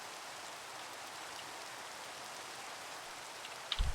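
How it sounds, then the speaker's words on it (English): Rain in the video game Minecraft, an even, constant hiss of falling drops with no letup, a couple of soft thumps breaking in right at the end. "I hate the sound of rain in Minecraft."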